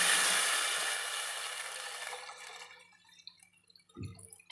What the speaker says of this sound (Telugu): ఇప్పుడు రసం వేసేసుకుందాం.